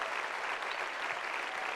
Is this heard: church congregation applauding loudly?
yes